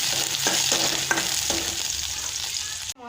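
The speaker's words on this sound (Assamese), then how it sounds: "নহৰু আদা গোটেইখিনি দি লৈছোঁ। ইয়াতে অকণমান ভাজি লৈছোঁ ভালদৰে" Onion, garlic and ginger frying in a pan, a steady close sizzle broken by a few sharp scraping stirs, with no talk.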